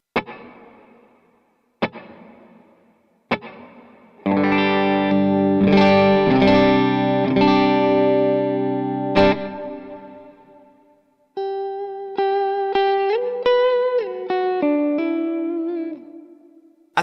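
Electric guitar runs through Jet Revelation and Eternity pedals on a modulated ambient setting: a few sharp picked hits, then a thick sustained distorted chord ringing with echo, followed by singing lead notes that glide and bend.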